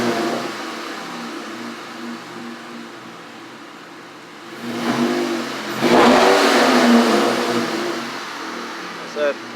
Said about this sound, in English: So we'll rev it up just a little bit